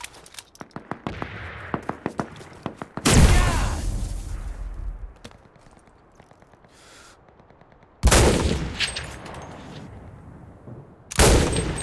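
Gunfire in the game CRSED: F.O.A.D., with rapid clicking handling noises followed by three loud, sharp shots spaced several seconds apart, each leaving a decaying echo.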